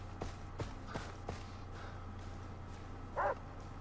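In Far Cry 3 gameplay, dogs bark a few times in the distance amid footsteps and game noise, with one sharper yelp near the end.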